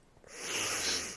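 A single short sniffle, a breathy nasal intake lasting about a second, faint and close with no talking.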